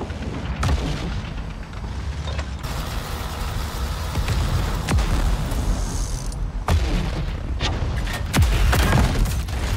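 Tank cannon shots and explosions in Project CW, a Cold War tank game, with repeated heavy booms and sharp cracks over a constant rumbling battlefield din, loud and close.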